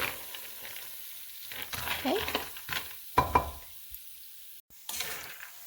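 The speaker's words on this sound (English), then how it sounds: "So you just want to basically roast it until it's golden." Peanuts roast in vegetable oil in a pan, a soft sizzle broken by stirring scrapes and a few sharp clinks, close and fairly quiet.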